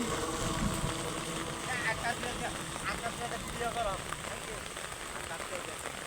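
Steady rain falls onto floodwater covering the ground around a house and farmland, a constant dense patter close by, with someone talking over it.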